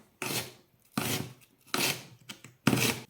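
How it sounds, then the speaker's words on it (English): Knife cutting a medium onion on a board, heard as three or four close, loud rasping cuts separated by short pauses, with no talking. "1 medium onion, take the top off, take the bottom, split it in half, peel back,"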